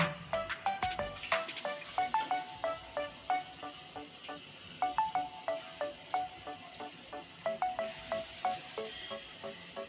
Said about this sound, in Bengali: একে একে ছেড়ে দিব একদম লাল করে ভেজে নেব